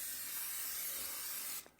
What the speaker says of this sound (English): So, you get some spray in there